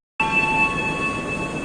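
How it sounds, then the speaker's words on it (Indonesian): The Pandalungan passenger train arriving at Bangil station in Indonesia, heard as a sudden loud wash of rolling rail noise with a sustained high whistle-like tone that rings steadily over the rumble. "8:10 kereta api Pandalungan telah tiba di stasiun Bangil."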